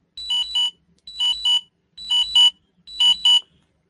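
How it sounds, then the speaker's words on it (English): An electronic alarm beeps in four evenly spaced, shrill double-pulse bursts, loud and close, with no talking over it. "Sorry, my alarms are going off."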